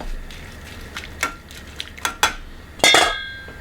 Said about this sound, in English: Put the lid back on it